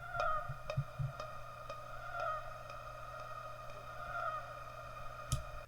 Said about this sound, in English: I'm going to add reverb to this sound now to make it just like a big pad